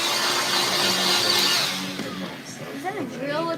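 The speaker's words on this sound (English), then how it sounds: "it's just an air blower" A barbershop air blower gives off a continuous loud whoosh that eases slightly midway, with a voice speaking over the end.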